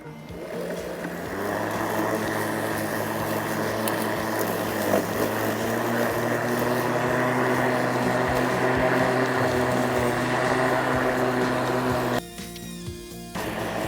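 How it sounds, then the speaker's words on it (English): A Litheli 20V brushless cordless 13-inch lawn mower hums steadily while cutting grass, a close, continuous motor whine with a slight drop near the end as it idles down. "I can already tell that the mower is having a much easier time cutting the grass."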